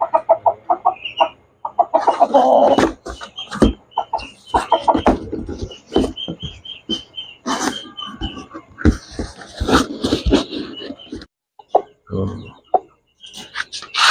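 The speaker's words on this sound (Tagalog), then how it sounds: "ito yung ating pure Rhode Island rooster" A pure Rhode Island rooster and other chickens cluck in short, loud, irregular bursts close by, with someone talking among them.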